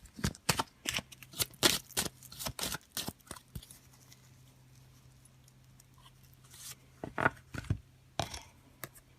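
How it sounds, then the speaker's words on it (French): A deck of divination oracle cards is shuffled close by in quick, riffling bursts of papery patter, pausing quietly before a final few flurries, with no talking. "on va voir avec le jeu divinatoire de Yagal Didier un complément"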